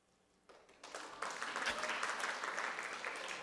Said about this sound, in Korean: 박수가 늦었습니다